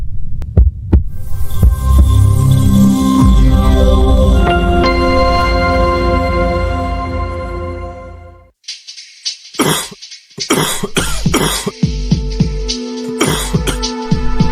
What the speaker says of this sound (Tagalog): ang tagal na ng ubo mo ah.